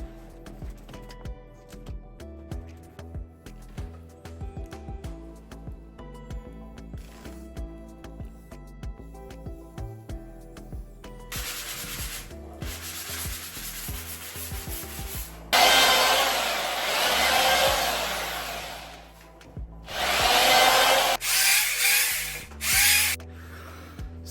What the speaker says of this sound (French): la partie ponçage est terminée, c'est hyper physique